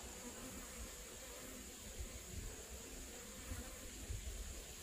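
Honeybees hum inside an open hive during an inspection at Løiten, a faint, steady, dense buzz that continues without a break, with no voices.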